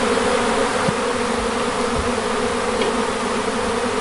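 Honeybees buzz densely around a winter beehive holding the queen, a loud continuous swarm drone close by with no voices.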